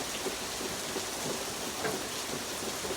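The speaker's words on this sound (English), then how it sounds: "it sounds beautiful, the rain coming down through the trees" Rain pours down through trees in a dense, even hiss of countless drops, steady and fairly loud with no voices, like a heavy shower soaking the canopy.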